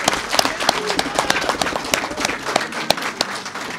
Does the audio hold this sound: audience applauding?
yes